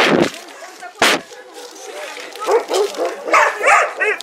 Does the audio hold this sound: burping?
no